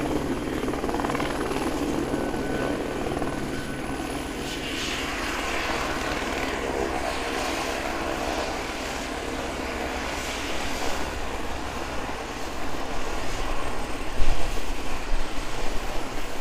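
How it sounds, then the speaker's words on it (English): An Airbus A320 jet taxis at snowy alpine Queenstown Airport, its broad, steady engine rumble and whine fairly distant and continuous, swelling slightly near the end. "Our A320 CO is the one that is currently taxiing towards us."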